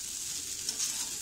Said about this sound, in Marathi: आपल्याला भात सतत असा ढवळत राहायचा आहे की जेणेकरून आपला भात कढईला चिकटू नये